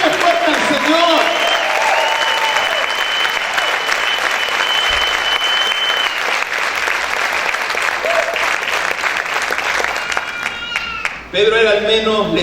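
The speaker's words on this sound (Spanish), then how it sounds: "Aplaude fuerte al Señor." A church congregation applauds loudly and steadily for about eleven seconds, dense clapping with a few raised voices mixed in, before it breaks off near the end.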